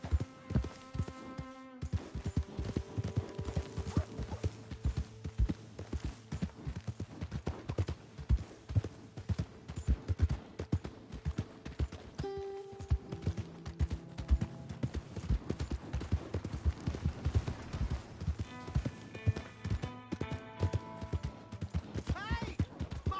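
Continuous rhythmic clip-clop of galloping horse hooves in the video game Red Dead Redemption 2 runs throughout, layered over game music and occasional voices.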